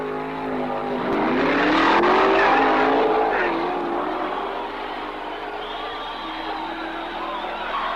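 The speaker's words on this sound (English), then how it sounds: "We look now at the quarterfinals in the funny car competition." Funny cars from the 1967 quarterfinals, including a 1967 Mercury Comet, roar down a drag strip with blown engines, a loud sustained engine rush building then easing, with an announcer and crowd audible beneath.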